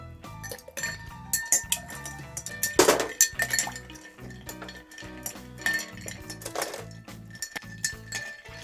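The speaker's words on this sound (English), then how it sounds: "we are just going to add a bit of ice and then stir it down until you get that dilution" Ice clinks and rattles against glass as a whiskey cocktail is stirred down, with steady light chinks, a few louder knocks, close and intimate.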